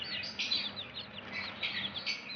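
Small pet chicks chirp in rapid bursts of high, thin peeps, several calls overlapping and fairly close, over a quiet indoor background.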